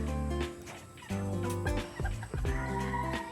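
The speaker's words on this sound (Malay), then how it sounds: "Kat sini kita ada ayam serama" Serama chickens cluck in a busy, continuous chorus, with pigeons kept in the same area and a dense layer of overlapping tones.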